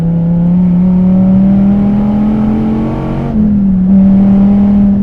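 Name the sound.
DSC Sport tuned Dodge Viper TA 8.4 liter engine revving on track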